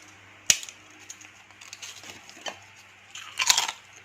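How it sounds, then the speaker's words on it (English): Crisp crunchy bites into a brittle homemade fish cracker, two loud snaps with smaller crackling chews between them, close and clear with no talking. "And listen how crunchy it is, guys."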